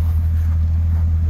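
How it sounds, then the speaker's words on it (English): A Jeep engine off-road near Big Bear gives a steady, loud, low rumble that holds evenly for a brief moment, with no talk over it. "Ahí viene el otro Jeep."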